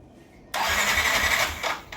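A Yamaha Nmax V1 scooter with a backfiring problem is push-started, and its engine suddenly catches, bursting into a loud, rough mid-pitched roar for about a second and a half before dropping off.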